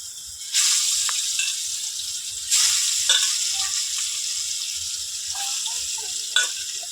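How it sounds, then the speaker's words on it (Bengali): Fish rubbed with salt and turmeric hits hot oil in a clay pot, bursting into loud sizzling at several points, each surge settling into a continuous frying crackle with small clinks in between. "এই যে মাছগুলো নুন হলুদ মাখানো মাছগুলো আমি ছেড়ে দিচ্ছি।"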